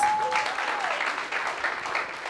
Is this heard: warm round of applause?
yes